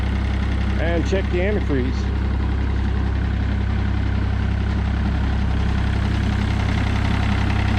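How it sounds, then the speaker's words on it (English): A tractor engine idles steadily with a deep, even rumble running unbroken throughout, while someone speaks briefly over it near the start. "I'm gonna let that tractor idle for a while"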